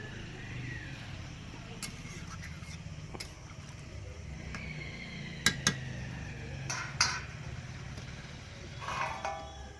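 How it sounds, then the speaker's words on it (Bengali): A metal lid clinks onto a cooking pot of braised meat, liver and gristle, a few sharp clanks and taps over a low background hum, with a voice talking nearby. "চাপা দিয়ে কিছুক্ষণ সেদ্ধ করে নেব"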